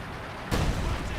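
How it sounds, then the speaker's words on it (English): Base artillery guns firing a barrage in Company of Heroes 2, a sudden loud boom halfway through that rolls on as a sustained rumble over continuous battle noise. "Now we do have the artillery barrage, base artillery."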